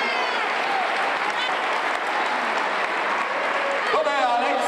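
An audience applauding at an Italian event, sustained dense clapping filling the whole stretch with a few voices rising over it near the end.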